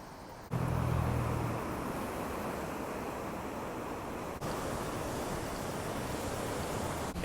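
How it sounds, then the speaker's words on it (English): Broadband ocean surf on a cold, windy shore along the coast between Lyall Bay and Oriental Bay, a steady wash with no clear breaks and wind buffeting the microphone throughout, with no voices. "I think that's the ocean, but I love the sound of the ocean."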